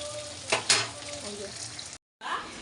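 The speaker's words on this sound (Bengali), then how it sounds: "তাহলে তেলটা দুপিটেই হয়ে গেল তাড়াতাড়ি ভাজা হবে তাড়াতাড়ি নরম হবে" Whole pointed gourds frying in hot oil in a home kitchen, a steady close sizzle with a couple of louder bursts as they are stirred, cutting out briefly before resuming.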